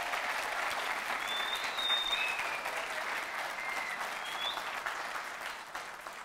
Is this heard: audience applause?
yes